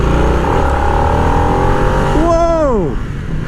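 Harley-Davidson Nightster motorcycle engine revving up hard nearby, a loud sustained throaty roar climbing in pitch, then falling away sharply as the throttle closes.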